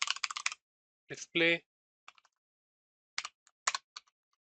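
Code is typed on a computer keyboard in short bursts of clicky keystrokes separated by pauses, quiet and close, with a brief spoken word.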